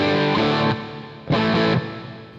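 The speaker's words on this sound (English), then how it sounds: "I've got a Super Plexi 100 watt Marshall dialed up, and it cranks on its own." Electric guitar through a BOSS DS-1 distortion pedal into a 100-watt Marshall Super Plexi amp, two loud sustained distorted chords, each ringing briefly and then cut off.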